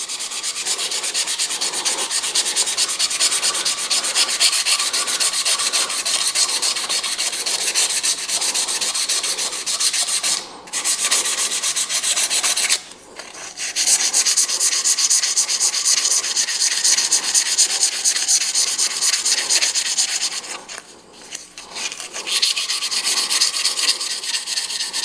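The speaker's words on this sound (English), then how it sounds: "your next step up in grit level should go fairly quick. All you're doing now is smoothing." Finer-grit sandpaper rubbed against a spinning 7mm wooden pen blank on a lathe, a continuous close scratchy hiss lasting the whole stretch, briefly interrupted three times.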